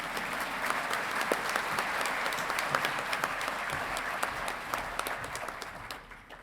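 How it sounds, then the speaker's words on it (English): Audience applause at an honors graduation ceremony at Colorado State University, a dense, steady wash of clapping from a large crowd that holds for several seconds before easing off near the end. "You can applaud if you want"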